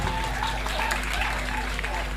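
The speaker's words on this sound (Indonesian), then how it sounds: "tepuk tangan untuk Mbak Nana" Applause for a student from a university audience during a debate event in Indonesia, a steady wash of clapping with low-level voices mixed in throughout.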